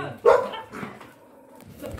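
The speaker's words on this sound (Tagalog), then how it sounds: "May tuta pa." A puppy gives a sharp, close bark followed by a few softer yips and whimpers. Faint voices murmur in the background.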